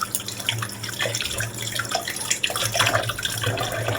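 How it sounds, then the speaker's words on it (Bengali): Running water splashes over conch shell bangles being rinsed by hand, a continuous close hiss and patter with small irregular splashes. "এবার এটাকে একটু জল দিয়ে ধুয়ে নিই"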